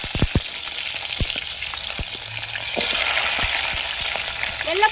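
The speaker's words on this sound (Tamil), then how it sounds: "தேவையான சின்ன வெங்காயம் சேர்த்துக்கணும்." Small onions drop into hot oil with fenugreek seeds and curry leaves and fry with a close, crackling sizzle. A few sharp knocks sound early, and the sizzle swells louder partway through. No one speaks.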